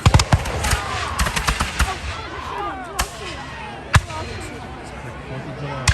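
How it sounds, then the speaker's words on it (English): Flintlock muskets fire at an 1812 battle reenactment, with a rapid scatter of sharp cracks early on and then single heavier reports spaced through the scene, some near and some farther off, over crowd murmur. "the flint hits steel, causes a spark that goes down the barrel, and that's how the gun shoots"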